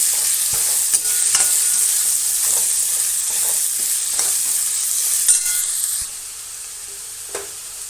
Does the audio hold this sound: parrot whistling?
no